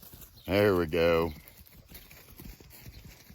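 Hooves of a well-trained cow clop steadily across a homestead pasture. The footfalls follow a loud, drawn-out vocal call near the start.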